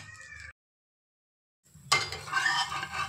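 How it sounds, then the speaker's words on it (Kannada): Tomato dosa cooking with oil on a hot pan gives a brief kitchen sound, then a short silence, then a bright, steady sizzle that rises and carries on to the end, with no talk. "ಮೇಲೆ ಆಯಿಲ್ ಹಾಕ್ಕೊಳ್ತೀನಿ, ಆಯಿಲ್ ಹಾಕಿ ಬೇಯಲಿಕ್ಕೆ ಬಿಡ್ತೀನಿ।"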